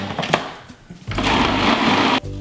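A blender kicks on after a few knocks and whirs loudly for about a second, churning a thick vegan cranberry and thyme cheese ball mixture, then cuts off abruptly.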